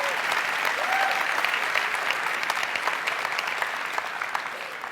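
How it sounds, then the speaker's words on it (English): Audience at a tech keynote applauding warmly, a dense, even patter of many hands clapping at steady loudness for several seconds, with faint cheers mixed into the wash. "People are cheering for you, Lola."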